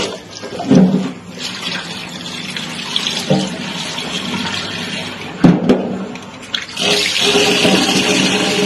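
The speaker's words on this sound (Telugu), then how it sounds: "ఫస్ట్ చికెన్ నీట్గా క్లీన్ చేసుకోవాలి రెండు మూడు సార్లు" Tap water runs steadily into a sink while raw chicken is rinsed two or three times for a home chicken curry, with splashes and brief surges as the pieces are handled. No one speaks.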